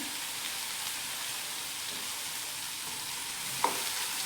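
Curry leaves and ginger paste sauté in hot oil with cumin seeds, producing a continuous even sizzle close up. One brief pop or clink cuts through near the end.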